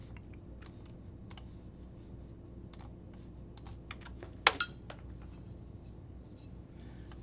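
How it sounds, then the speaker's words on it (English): Computer keyboard typing during an edge-detection coding session, with scattered soft key clicks over a steady low hum and one sharper clatter about two thirds of the way through, all close and fairly quiet. "oh, I was typing that"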